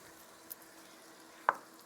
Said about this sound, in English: So we're going to add the cabbage to the onions